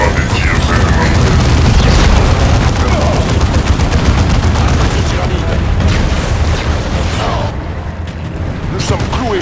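Dense, continuous battle noise from Dawn of War 2, with rattling enemy gunfire and heavy booming explosions packed together loudly, under a unit's voice report.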